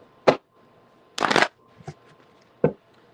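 A deck of tarot cards is shuffled in quick riffling bursts, one long rustle between a few short snaps, close and alone.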